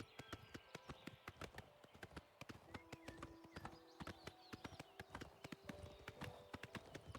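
Steady clip-clop of horse hooves on a hard surface, an even trotting rhythm of sharp knocks that carries on throughout.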